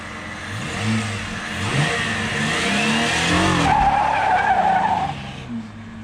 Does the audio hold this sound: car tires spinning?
yes